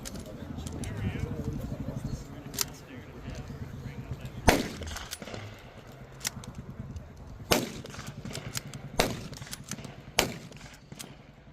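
Springfield rifle shots fired at a WW2 reenactment at Volusia Valor Days, several sharp, loud cracks spaced a second or two apart over a murmuring outdoor crowd.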